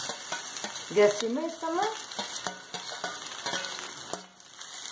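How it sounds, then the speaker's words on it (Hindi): Onions and potatoes frying in a pan, with continuous sizzle and rhythmic spatula scraping and tapping, while someone speaks briefly over the cooking. "प्याज इसमें पक गए हैं, अब आलू डाल देंगे।"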